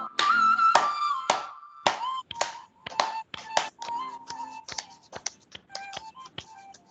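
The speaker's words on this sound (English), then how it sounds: "And clap." Workshop participants clap hands in a session, producing a string of sharp, separate claps in an uneven rhythm, close and fairly loud, with brief gaps between them.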